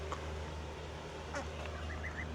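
Royal Palm turkey hens give a few soft, brief chirping calls over a steady low hum, fairly faint and somewhat distant.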